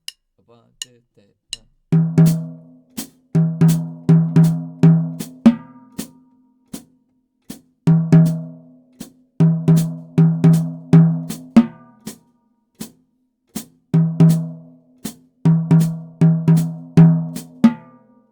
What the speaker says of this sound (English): So maybe we'll use it on the rack tom and the snare drum